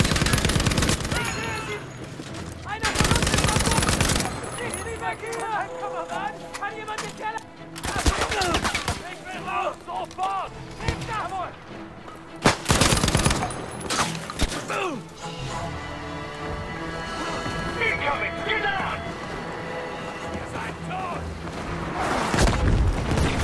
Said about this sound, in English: I'm getting shot in the back, bro.